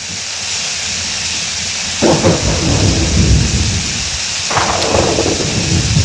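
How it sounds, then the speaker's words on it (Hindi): Heavy rain pours steadily outdoors at night, with two rolling thunder rumbles breaking in partway through, loud and close over the constant hiss of the downpour. "देखते देखते बड़ी बड़ी बूंदें चालू हो गई बरसात की"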